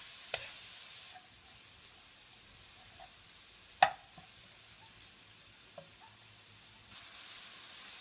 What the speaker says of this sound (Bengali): গাজরগুলো দেওয়ার পর কিছুক্ষণ ঘিয়ের মধ্যে ভালো মতো ভেজে নিব